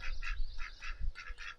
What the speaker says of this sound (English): So here I have two drakes that I have to keep separate.